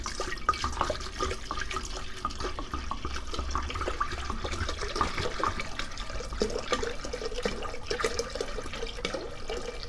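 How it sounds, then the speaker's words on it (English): Tap water poured into a Mophorn 750W countertop water distiller, a steady close splashing and trickling stream that runs continuously and loudly throughout. "So I'm going to go ahead and dump this water in."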